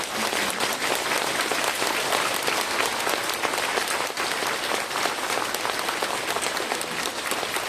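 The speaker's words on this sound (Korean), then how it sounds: "우리 한기총을 지키신 목사님들에게 우리가 깊은 감사의 박수를 치겠습니다." A standing church congregation gives pastors a sustained round of thankful applause, a thick, even wash of many hands clapping at once, loud and continuous without speech.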